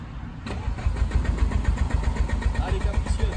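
An ethanol-fuelled Corrado turbo engine with a full exhaust and a single rear silencier cranks, then catches hard into a rough, pulsing idle with rapid, uneven firing beats close to the car, while a voice speaks briefly over it.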